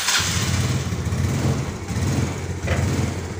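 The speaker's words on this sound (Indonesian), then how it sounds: "nah, bisa dihidupkan guys motornya sudah nyala" Carburetted Yamaha Mio motorcycle engine idling steadily just after starting, a close, continuous low rumble with a couple of brief revs.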